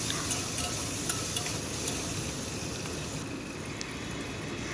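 Washed broken wheat (dalia) being stir-fried in a pan with green chillies, a soft steady sizzle with light scraping and ticking from stirring, fairly quiet and close.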